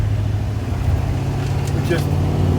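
A 1972 Chevrolet Monte Carlo engine runs steadily with a loud, continuous low rumble close by, with faint background sounds and no clear speech.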